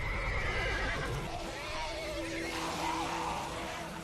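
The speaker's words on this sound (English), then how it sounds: "Oh, zombie horse." A horse neighs and whinnies loudly in a zombie TV drama, a long shrill call over clopping hooves and dense rumbling background noise from the show.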